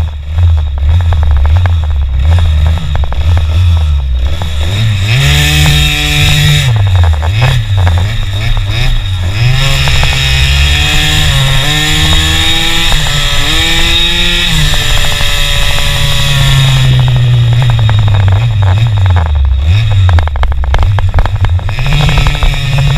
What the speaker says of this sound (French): un moteur qui hurle comme ça en rodage